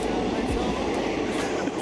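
A train rolling through the Maeklong Railway Market in Thailand, heard from the connector between two carriages as a loud continuous rumble with rattling clanks, under some voices.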